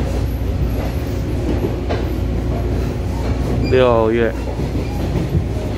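The EMU518+EMU502 local electric train rumbles along the Yilan line with a steady rolling roar and a brief rising tone partway through, while a voice speaks briefly over it.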